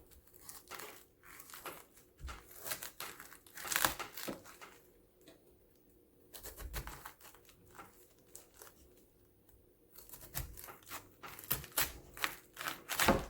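A kitchen knife cuts the core out of a halved head of cabbage for fried cabbage, giving a run of crisp crunching, crackling cuts in irregular bursts with short quiet pauses between them, close up and with no talking.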